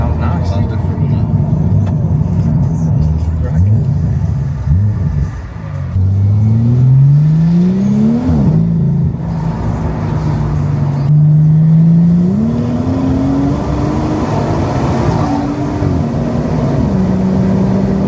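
A BMW M140i with a custom-fabricated exhaust revs loudly up and down, the engine note rising and falling across several sustained blips with a steady whine on top.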